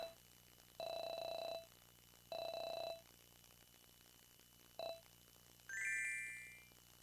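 Chime sound effect from a Casio Loopy video game: three sustained electronic bell-like tones, two long and one brief, followed by a rising sparkle of bright tones, clear over steady background music.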